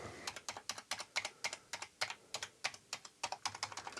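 Keys clatter on a Commodore 64C keyboard as it is tested after reassembly, a steady run of close, crisp clicks and clacks about three to four per second with no voices.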